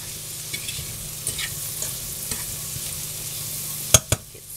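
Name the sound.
black pepper sizzling in pan with carrots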